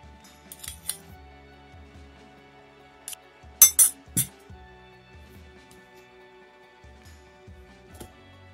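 Shortening is worked into flour in a bowl for gur mathri dough, with a few sharp metallic clinks and taps of a utensil against the dish. A quick cluster of clinks comes midway over quiet kitchen background, with no talking.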